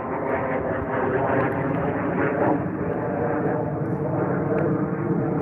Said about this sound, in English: Fucking plane going by, break my concentration.